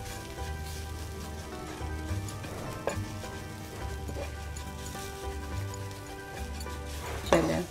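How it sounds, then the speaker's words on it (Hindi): Plain flour and a pinch of salt toast in a hot pan, giving off a soft, steady sizzle with faint stirring scrapes and a brief louder crackle near the end. "इसको भी हम 1 मिनट के लिए इसको भूनते हैं ताकि जो मैदे का कच्चा पान है वो ख़त्म हो जाए"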